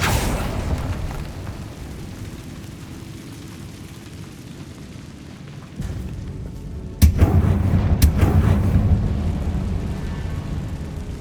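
The Incendio fire spell goes off in Hogwarts Legacy, a sudden loud whoosh and burst that swells into a roaring rumble, set against a quieter, low ambient hum before it.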